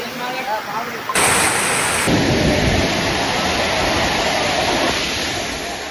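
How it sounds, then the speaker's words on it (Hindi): Torrential rain pours over a hilly area near Sundha Mata in Jalore, Rajasthan, with a steady loud roar of water and deep rumbling thunder beneath. The downpour fills the clip without pause. "सुंधा माता पहाड़ी क्षेत्र में बारिश मूसलाधार।"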